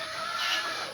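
Many chickens being fed on a farm: a continuous loud chorus of clucking, with no gaps, close by.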